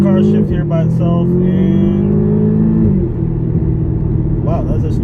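A 2012 Audi TTS with a turbocharged four-cylinder accelerates hard in sport mode, its engine note climbing loud and close, then dropping sharply as it shifts itself before pulling again, with a voice talking over it.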